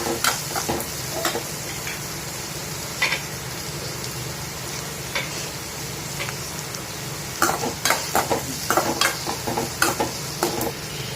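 Onions sautéing in a pan for ragi semiya upma, with a steady sizzle broken by repeated scraping stirs that cluster toward the end, close and fairly loud, and no one speaking.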